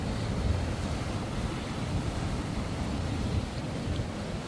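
Steady broadband roar of surf washing in continuously, with wind rumbling across the microphone and no voices.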